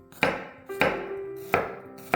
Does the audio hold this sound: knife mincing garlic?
yes